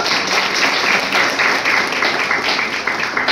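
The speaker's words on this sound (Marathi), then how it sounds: "सर्वांनी जोरदार टाळ्या वाजवून साहेबांचे एकदा स्वागत करावे." Steady, dense applause from a large crowd welcoming a guest at an inter-college speech competition, loud and continuous throughout with no pauses.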